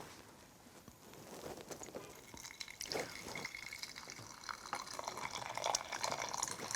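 Water pours into a matcha bowl, a soft trickling and splashing that builds gradually and grows louder and fuller toward the end.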